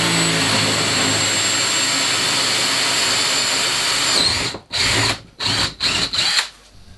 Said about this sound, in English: After drilling a hole for the charging cable,